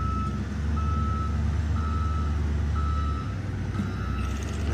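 A roads department truck reverses outdoors, its backup alarm beeping in an even repeating rhythm over a loud, rumbling diesel engine.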